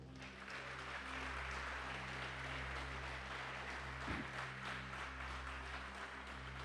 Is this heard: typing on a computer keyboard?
no